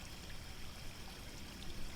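A river stream flowing in a constant, quiet rushing wash of water with no breaks and no voices.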